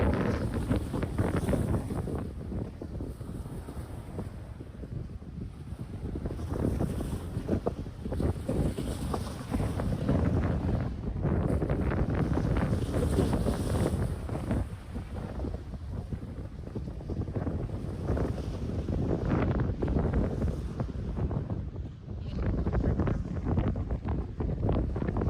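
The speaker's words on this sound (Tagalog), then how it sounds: "Mahangin. Malamig." Strong cold wind buffets the microphone outdoors on a family fishing outing, a constant loud rumbling roar with gusty swells throughout and no talk.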